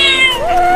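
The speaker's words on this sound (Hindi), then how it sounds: "वहाँ बिल्ली रोड पर है।" A cartoon cat gives one short meow, a clear rising-then-falling cry, loud and close, with nothing else around it.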